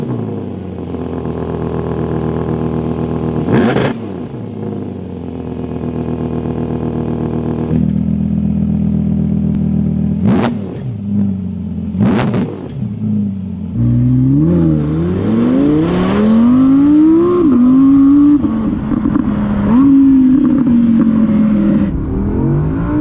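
A rear-wheel-drive Audi R8 with a 540-horsepower engine accelerates hard through several gears, each rising rev sweep cut by quick shift blips, then settles into a lower, wavering drone as it eases off, loud and close with no talk.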